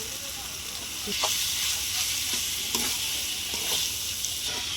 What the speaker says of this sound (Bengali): তা ভালো করে চিকেন কিমাটা কষে নেব